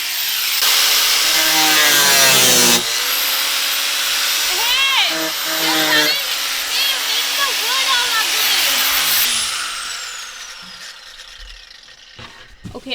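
A small grinder cuts off protruding screws on a Jeep during renovation, giving a loud, continuous high whine with rising and falling pitch as it bites, over background talk, fading near the end.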